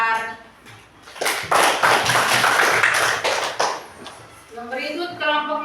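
Classroom of students clapping for a group after its presentation, a burst of fast hand claps rising in the middle and fading, with a teacher's voice talking before and after.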